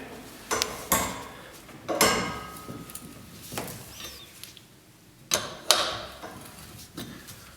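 A wrench turns a bicycle pedal anti-clockwise to loosen it from the crank, giving a handful of sharp, close metallic clicks and knocks spaced irregularly over several seconds, with no talk.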